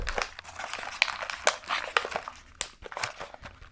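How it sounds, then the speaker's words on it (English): Crinkling plastic bag of peanuts handled close to the microphone, with sharp, irregular crackles and rustles in bursts throughout, fairly loud in a quiet setting. "But the crinkling noise is quite strong."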